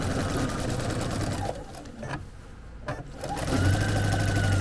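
A sewing machine stitches embroidery with a fast, continuous mechanical whirr, briefly slowing and pausing midway before running steadily again at full speed.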